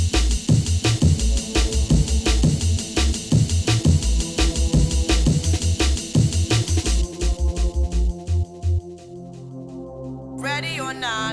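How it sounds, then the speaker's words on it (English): A haunting synth pad swells under a driving drum-and-bass beat in a remix; the beat thins and drops away near the end, leaving the pad sustained before a brief vocal fragment enters. "we do have this haunting pad."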